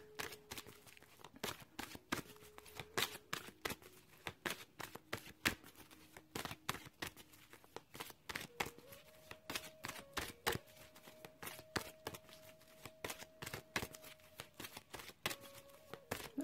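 Ask an Angel oracle cards being shuffled close by, with rapid, repeated riffling slaps and flicks in an uneven rhythm over a faint steady musical tone.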